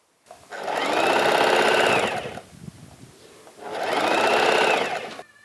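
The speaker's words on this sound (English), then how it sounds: "I sew around the edges so it's the kaftan is neat." A sewing machine stitches around the edges of kaftan fabric in two loud, close bursts of rapid whirring, separated by a short pause, with no talk.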